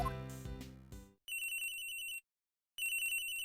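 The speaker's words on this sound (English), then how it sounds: "Phone call, phone call." A phone rings in the video game Ace Attorney Investigations 2: a short musical chime, then two bursts of bright electronic trilling split by a brief silence, clean and close with no talking.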